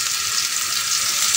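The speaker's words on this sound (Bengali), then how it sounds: "পটলগুলোকে খোলা রেখে আমি ভাজবো" Pointed gourd (potol) pieces fry in a pan with a steady, close, hissing sizzle that holds even throughout, with no voices.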